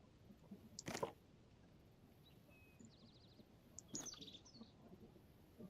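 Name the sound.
bird chirping in video game Zelda Tears of the Kingdom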